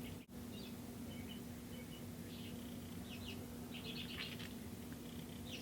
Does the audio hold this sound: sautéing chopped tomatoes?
no